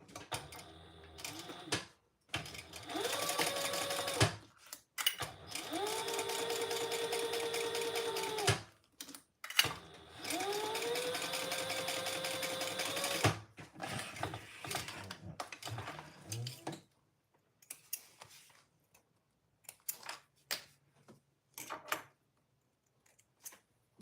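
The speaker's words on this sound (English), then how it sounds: "we're just going to top stitch this now" A sewing machine top stitches a garment in two long runs of whirring stitching separated by pauses, followed by quieter handling clicks and rustles; no speech.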